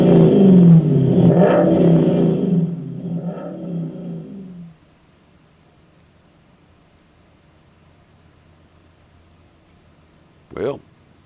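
Jeeps and a Jeepster dragster roar up a steep dirt hill at a Goat Hill race, with loud rumbling engine revving for about four seconds before it drops away to near silence, then one brief sharp knock near the end.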